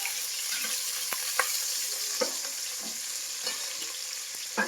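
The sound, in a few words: onions and peanuts frying in a pan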